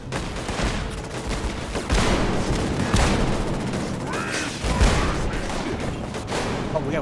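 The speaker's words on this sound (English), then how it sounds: "Oh, buddy, watch those missiles." Missiles firing and exploding in Fallout 76, a rapid, dense barrage of loud booms and bursts with dense crackling gunfire in repeated waves.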